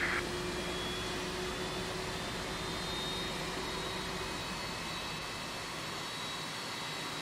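Jet engines of a Boeing 767-400ER in the X-Plane 11 flight simulator give a steady, broad roar with a faint high whine, holding constant with no talk.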